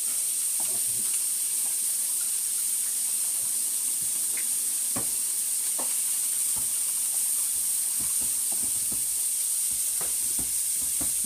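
Shallots frying in a pan: a continuous bright sizzle and hiss with scattered crackling pops, close and steady throughout, with no talking.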